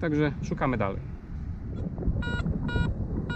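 An Anfibio metal detector sounds a soft tone that repeats three times in quick succession outdoors, following a brief spoken phrase.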